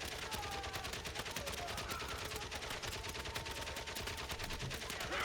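Dense, rapid gunfire from target practice crackles steadily throughout as a near-continuous fusillade of sharp reports at constant loudness, with no voices.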